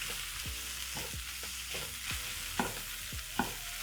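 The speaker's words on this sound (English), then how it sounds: "So to my mushrooms, I'm going to add my spinach. Stir in the spinach." Spinach being stirred into mushrooms frying in a pan for a vegetable omelette, with soft, repeated scraping strokes over a low, steady sizzle, and two slightly sharper knocks near the end.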